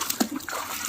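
Water splashing and sloshing in a home bathtub as siblings play at swimming, a short close splash with a brief voice-like squeal, then a bright wet wash of sound.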